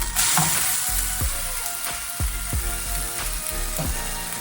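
A tortilla frying in a pan on a stovetop for birria quesa tacos, a loud steady sizzle with a few sharp pops and spatters, close up.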